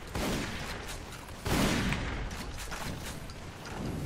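Sniper rifle fire in the arena shooter Toxikk, dense game audio with a couple of heavy shot onsets over constant loud background action.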